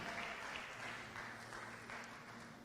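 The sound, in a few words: applause from the congregation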